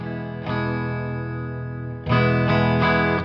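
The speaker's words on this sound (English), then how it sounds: "Let's go ahead and kick it into the middle, hear what both of these pickups sound like together." 1980 Peavey T-60 electric guitar through an amp on the middle pickup: sustained, effected chords ring out, then a louder strum returns with two more accented hits.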